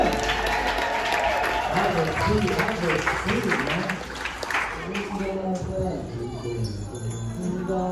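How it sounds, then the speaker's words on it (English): Applause from an audience at a live hip-hop performance at the Intertribal Friendship House in Oakland, sustained clapping mixed with crowd noise and low bass music running underneath throughout. "Give him a round of applause, ladies and gentlemen."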